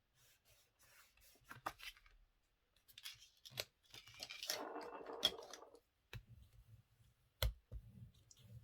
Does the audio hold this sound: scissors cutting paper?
yes